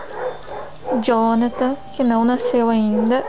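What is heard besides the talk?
neighbours' dogs barking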